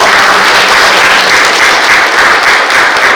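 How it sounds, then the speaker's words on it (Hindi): Loud, dense applause from a large crowd, sustained and steady throughout with no voices standing out. "तो एक बार जोरदार तालियों से"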